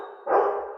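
A pet dog lets out one short, loud bark close by indoors, with no talking around it.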